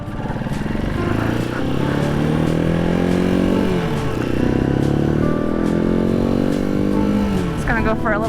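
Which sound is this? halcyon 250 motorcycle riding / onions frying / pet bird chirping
halcyon 250 motorcycle riding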